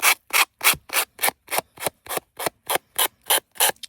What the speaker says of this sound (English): So I'm just sanding this off with my sanding block.